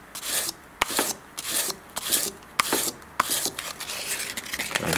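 Hand-sanding a raised burr off a deep-etched metal logo with abrasive paper, in quick rhythmic back-and-forth rasping strokes, close and fairly loud with short pauses between passes.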